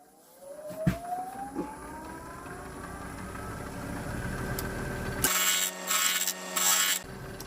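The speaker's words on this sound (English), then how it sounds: "I'm just going to nibble those ends off" A mostly closed woodturning gouge nibbles the ends of an olive wood rectangular platter spinning on a lathe, a rising whine with intermittent cutting bursts, loud and close, growing harsher toward the end.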